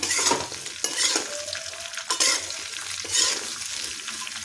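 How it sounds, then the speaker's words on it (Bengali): Chopped thick green chillies and ginger fry over a high flame, giving a steady loud sizzle with the scrape of stirring throughout and no voices. "এখন এর মধ্যে কেটে রাখা মোটা লঙ্কাগুলো দিয়ে দেব এবার হাই ফ্লেমে দু মিনিট ভেজে নেব সব একসঙ্গে"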